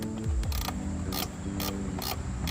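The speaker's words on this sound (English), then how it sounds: "I actually stick my ratchet gun in here, but I don't want too much torque" A ratchet gun works on a bolt of a brake master cylinder, giving a few short, sharp bursts of clicking whirr with brief pauses between them, close and fairly quiet.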